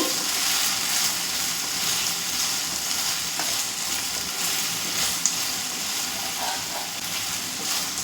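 Okra curry stirred in a pan with salt and chili, a steady close sizzle and soft scraping stir running throughout with no talk.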